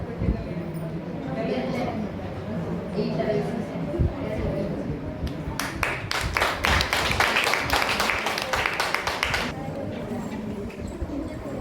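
Hand clapping from a crowd at a children's abacus prize-giving ceremony, a dense burst of applause-like claps rising mid-clip over steady chatter and talk, lasting several seconds before fading back to voices.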